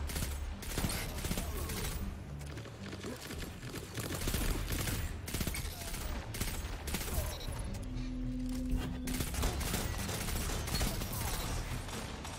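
Burst fire from the Stars in Shadow pulse rifle in a shooter game, dense rapid volleys of gunfire continuing almost without pause, loud and close with game effects mixed in.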